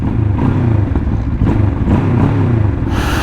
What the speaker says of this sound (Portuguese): a sonoridade desta moto? Ela faz uns pops